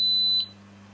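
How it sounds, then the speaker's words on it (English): A SYMA X3 quadcopter transmitter gives a short, bright electronic beep as it binds, close and clear, then cuts off, leaving a faint low hum. "if you push the throttle to maximum and then switch on the transmitter, you'll hear the beeps"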